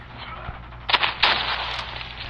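Gunfire in Call of Duty, two short faint bursts over a quiet background hum.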